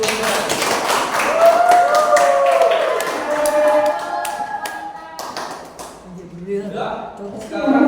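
A classroom of students claps their hands together in a dense burst of rapid claps that fades out, with a teacher's voice and a few speaking voices heard between and after.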